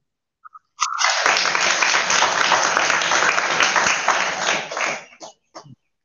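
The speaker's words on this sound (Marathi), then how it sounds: "सगळ्यांनी टाळ्या वाजवायच्या त्याच्यासाठी" Loud, steady applause from a crowd, many hands clapping densely for about four seconds before tapering off into a few scattered claps.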